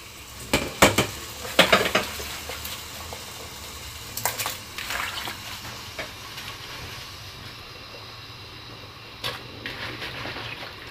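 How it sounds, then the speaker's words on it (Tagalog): Apple and pear pieces dropped into a pot of boiling water, giving a few close clattering splashes and knocks early on, then a quieter simmering bubble with another faint clink later. "Kumukulo na din itong tubig, kaya ilagay na natin."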